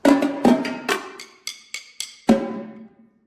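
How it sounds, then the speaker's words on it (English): Sharp wooden clicks of drumsticks struck together, eight crisp hits in an uneven rhythm with short ringing decays, close and loud. "The bar before B, you'll be clicking on your sticks for 3 and 4 and"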